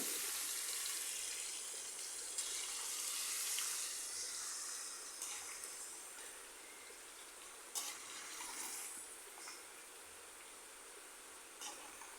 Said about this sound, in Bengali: পেঁয়াজ কুচিটা লাল হয়ে গেল এবার মাখানো মাংসটা এর মধ্যে দিয়ে দিলাম